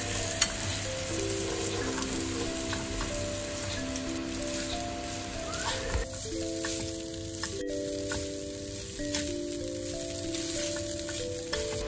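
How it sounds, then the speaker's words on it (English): Shirataki pasta tossed through garlicky spicy sauce in a hot pan, a steady close sizzle and frying hiss with soft stirring scrapes running throughout, no voices. "And you just toss all the sauce in the pasta."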